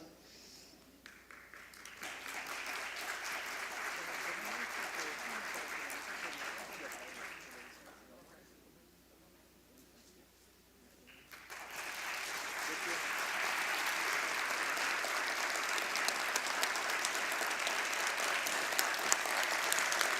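An audience at a literary dialogue event applauds writer Luis Rafael Sánchez in two long waves of steady clapping, fading to a quiet lull near the middle before swelling again, louder and sustained, to the end.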